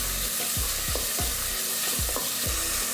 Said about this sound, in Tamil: வெங்காயம், வெள்ளைப்பூண்டு, பச்சை மிளகாய் வதக்கிறதுக்காக மட்டும்தான் அந்த எண்ணெய் கொஞ்சம்.